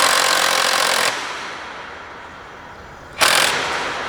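A power drill bores bolt holes for a solar automatic gate opener bracket, loud and close, with a harsh grinding burst that drops to a lower hum, then surges again near the end; no speech.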